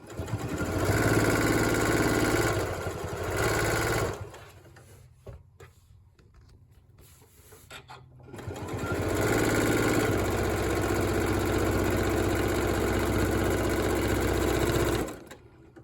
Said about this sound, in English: So we're going to sew that seam allowance.